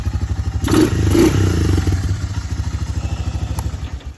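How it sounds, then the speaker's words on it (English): A Honda 300 four-wheeler, abandoned for five years, running after carburetor cleaning: a close, steady low engine chug with a brief rev and clatter early on, then settling into an even rhythmic idle. "That has to be the easiest four-wheeler I've ever got running."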